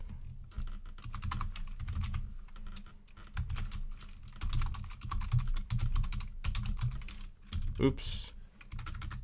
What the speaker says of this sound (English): Let's go ahead and type in our email.